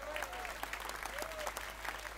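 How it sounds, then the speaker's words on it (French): An audience at a political rally in Orange clapping in a dense steady patter, fairly faint and distant, with a brief whistle rising over the applause. "Je vous demande d'applaudir Cédric Vella"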